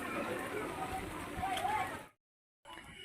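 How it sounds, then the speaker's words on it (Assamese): Heavy rain pours steadily as a dense, close hiss with splashing, running continuously for about two seconds before cutting to silence, then resuming briefly. "আজি যিহেতু বহুত ডাঙৰ বৰষুণ দিছে"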